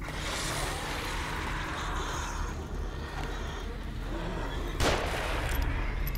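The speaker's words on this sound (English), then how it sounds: "Am I getting shot by someone?" Gunfire from the survival horror video game The Evil Within, a muffled burst of shots and a sharp crack partway through amid a dense, noisy game mix.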